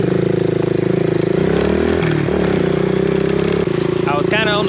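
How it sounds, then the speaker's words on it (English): The diesel engine of a rollback tow truck idles at a steady, loud, droning rumble while warming up, close by, with a voice talking briefly over it near the end. "Got the rollback warming up."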